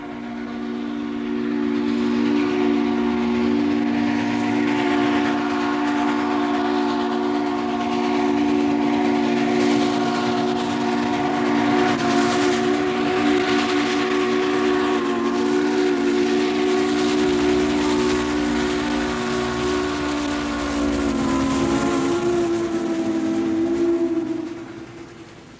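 A steam train on an excursion blows a long, loud, sustained chime whistle over the chuff and rumble of the engine, the tone holding steady for over twenty seconds before fading.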